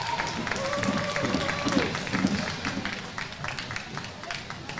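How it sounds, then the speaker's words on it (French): A crowd applauds a young skateboarder at an under-14 qualifying contest, scattered clapping and cheers under an announcer's voice and a brief tonal sound, moderately loud and continuous. "Applaudissements pour Louis-Victor."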